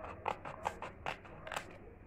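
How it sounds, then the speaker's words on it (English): Scissors snip through a sheet of paper to cut it in half, giving four or five crisp, close cuts spaced about half a second apart with no talking. "you will cut it into half using a scissor."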